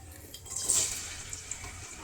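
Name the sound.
water running from tap while washing hands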